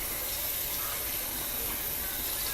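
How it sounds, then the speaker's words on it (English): Fever tea ingredients being washed in warm water: a steady, close rushing hiss of running water, like a filling sink, constant throughout with no speech. "I'm going to wash it with warm water."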